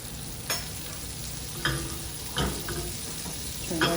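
Butter sizzles in a hot omelette pan, a steady soft hiss at close range with a few brief louder scrapes and crackles scattered through, with no talk.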